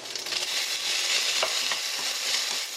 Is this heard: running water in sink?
no